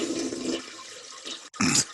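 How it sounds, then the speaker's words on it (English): A toilet flushes in a rush of water, cutting off briefly after a surge and then ending in a loud burst of gurgling and swirling, close and alone. "you hear with that the sound of a toilet flushing"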